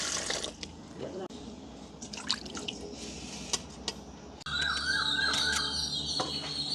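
Peeled beetroot is washed in water with splashing and dripping close by. The water gets louder and steadier partway through, and birds chirp faintly in the background.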